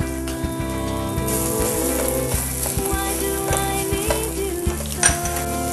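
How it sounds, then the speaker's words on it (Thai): Shrimp and shallots stir-fry in hot oil, a continuous bright sizzle with rhythmic scraping strokes of a utensil against the pan, close and steady, no voices. "แล้วก็เอากุ้งลงมาผัดด้วยค่ะ"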